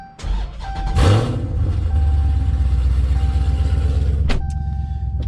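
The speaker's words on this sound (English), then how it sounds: "let's go ahead and take this car for a quick drive while we still can" A car with a modified exhaust starts with a loud burst, then idles steadily and close by with a deep, throbbing rumble, ending in a short sharp blip.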